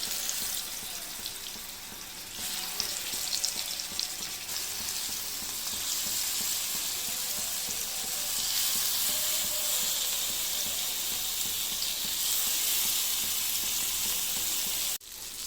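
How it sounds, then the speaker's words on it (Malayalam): Fish pieces fry in hot oil for a fish curry, giving a steady, loud broadband sizzle that runs throughout with a slight rise partway and a brief dip near the end; no voices. "നമുക്ക് മീൻ ഇട്ട് കൊടുക്കാം വറക്കാനായിട്ട്."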